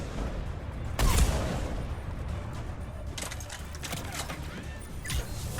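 Turret gunfire in the shooter game Mass Effect 3 sounds as a loud close burst near the start, followed by scattered fainter shots and rattling volleys over a rumbling battle background.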